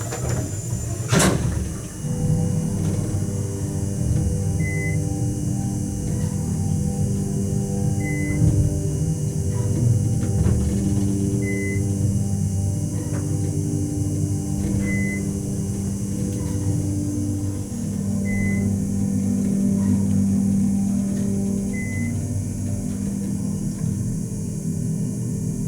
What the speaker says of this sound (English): let's listen to the motor on this one